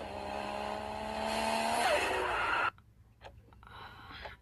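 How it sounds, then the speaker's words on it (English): A Toyota Supra engine revs up in a racing game, loud and rising over about two and a half seconds before cutting off abruptly, followed by faint quieter sounds. "Now this sounds like a Supra."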